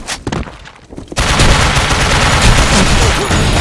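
Rapid automatic fire from an XM8 rifle in the shooter game Blackshot, a few separate shots followed by a loud, dense continuous burst that fills the rest of the clip.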